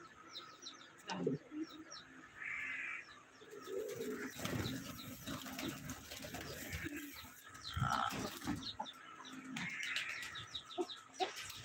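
Pigeons kept at a house coo repeatedly in low, soft bursts, with scattered chirps and a few brief, sharper bird calls mixed in; the birds sound close, over a light background and occasional faint noises.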